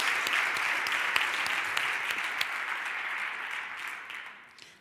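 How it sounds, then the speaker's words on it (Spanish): An audience at a Spanish talk on emotion and memories gives a strong round of applause, with broad continuous clapping punctuated by a few loud nearby claps, fading out in the final second. "Fuerte aplauso, por favor."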